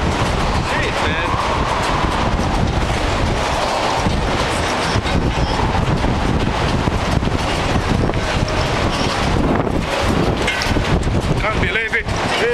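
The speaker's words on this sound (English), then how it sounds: "The wind is too strong." Strong storm wind roars steadily and close throughout, buffeting the microphone with constant rumbling gusts, while voices talk faintly underneath.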